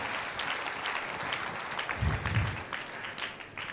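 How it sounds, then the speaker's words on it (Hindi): A church congregation at a Sunday worship service claps in praise, producing dense, sustained applause from many hands that continues steadily, with a few louder thumps partway through. "ताली बजा के प्रभु को महिमा।"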